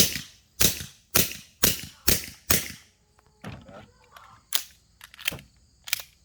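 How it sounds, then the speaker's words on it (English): Suppressed gunfire during a test-firing session outdoors: a rapid string of six sharp, loud shots at an even rhythm, followed by a short pause and then three more spaced shots with faint ringing and mechanical clatter between them. "Let's just shoot a few more for function."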